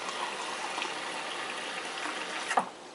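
Warm water, one and a half cups measured for homemade bread, pours steadily into a container that already holds sugar, a continuous soft rushing that ends with a brief louder splash.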